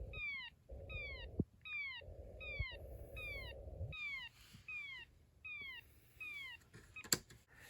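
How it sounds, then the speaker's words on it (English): A Snap Circuits Extreme SC-750 whistle chip, fitted with a C5 capacitor, emits a steady series of about nine sweeping electronic chirps over a constant low electrical buzz that drops out midway. "Now the chirps last longer than in the previous 2"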